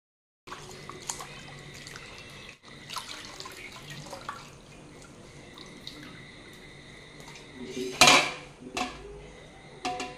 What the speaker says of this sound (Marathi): याला मी आता छान स्वच्छ धुवून कुकरमध्ये शिजवून घेणार आहे